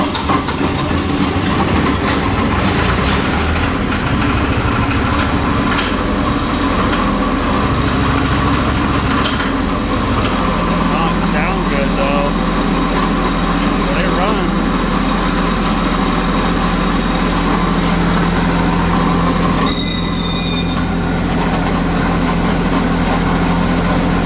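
A heavy light tower generator engine drones loudly and runs roughly, low rumbling with uneven grinding and clattering layered on top, a brief high metallic squeal near the end.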